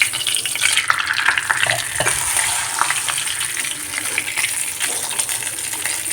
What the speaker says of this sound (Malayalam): അതിൽ പപ്പടം ആദ്യം വറുത്തെടുക്കട്ടെ കേട്ടോ